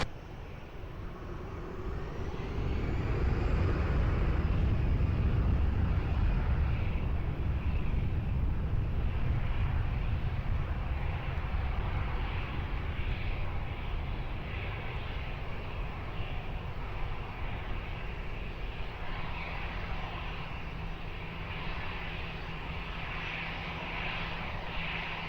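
An airliner takes off from a runway at Lisbon Airport, its engines swelling into a deep, loud roar that holds steady as it powers away, with some wind buffeting on the microphone.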